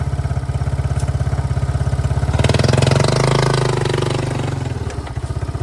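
Yamaha YTM200 three-wheeler engine stuck in mud, a close, loud, steady thumping idle that swells into a throttled rev for a few seconds, then settles back to a chugging idle.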